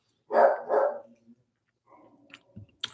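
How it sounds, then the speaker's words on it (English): A pet dog at home barks twice in quick succession, close and loud, followed by quieter rustling and small knocks. "apologize for my dog barking."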